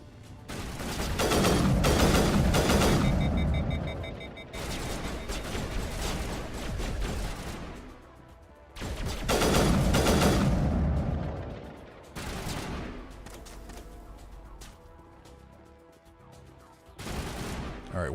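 Gunfire rattles in the video game Mass Effect Legendary Edition, repeated loud bursts of rapid shots separated by short lulls, with a voice talking between them.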